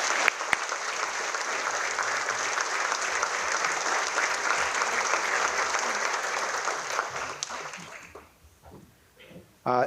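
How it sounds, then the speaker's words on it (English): An audience at a chamber of commerce annual meeting gives sustained, dense applause for about eight seconds, then it tapers off and a voice begins speaking. "I'd like to ask for a round of applause for these folks."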